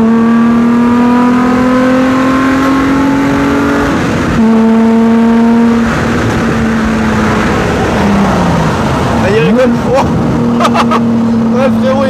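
Modified car fitted with a nitrous kit, engine revving hard with rising and falling pitch, loud and close, with crackling exhaust pops near the end; people talk over it.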